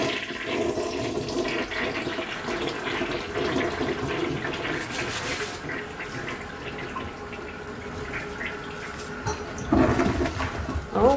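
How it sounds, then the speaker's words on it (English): A freshly cleaned toilet bowl flushes with a long, loud rush of swirling water that gurgles and drains, then refills with trickling water near the end. "And then we're just gonna flush."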